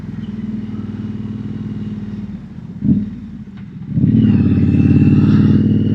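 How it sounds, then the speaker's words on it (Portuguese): A Triumph Bonneville motorcycle with a misfire on a mountain road, its engine droning steadily and loud, dipping and stumbling briefly in the middle before picking up again with a stronger, rougher roar. "falhinha na moto."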